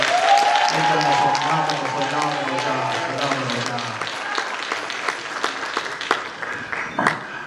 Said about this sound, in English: give one more round of applause to the concert choir